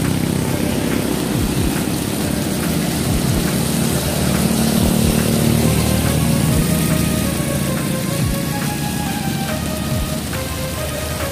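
Heavy rain pours loudly and steadily beneath a wide double-track railway bridge in Bumiayu, a dense roar of falling water with splashing drops close by.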